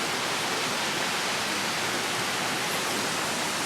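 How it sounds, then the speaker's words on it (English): A creek waterfall pours in a steady, close, dense rush of falling water, even and unbroken throughout with no voices. "So we're at the waterfall, you know, at the creek thingy in the bobber."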